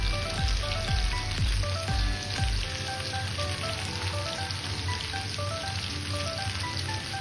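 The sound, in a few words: chopped onions frying in a pan for chicken curry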